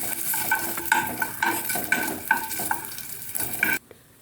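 Finely chopped coconut sizzles in hot ghee in a pan while a spoon stirs and scrapes it in quick, repeated strokes, close and lively, until the sound abruptly stops near the end.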